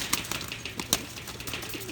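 Pigeons in a Kentucky loft, with brief wing flaps and faint bird sounds scattered over low room noise, a couple of sharper flutters standing out.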